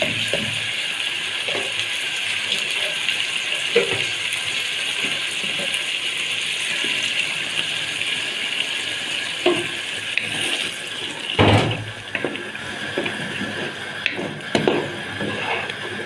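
Minced tomatoes going into a pot of sautéed onions, garlic and green fava beans, a continuous moderate sizzling hiss with a few sharp clatters and splashes, one louder near the end.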